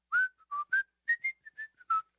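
A person whistles a short, clear melody of about nine separate notes in a lively, uneven rhythm, close and fairly loud, with no voices or other sounds around it.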